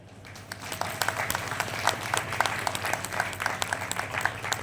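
A crowd at a hero celebration claps steadily and densely, a close, continuous wash of many hands with sharper individual claps popping out throughout.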